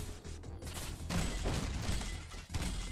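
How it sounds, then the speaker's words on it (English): Shotgun blasts from a player-built weapon in the shooter Mothergunship, heavy booming shots and thuds layered into a loud, dense wash of game combat noise. "Now it's a shotgun too"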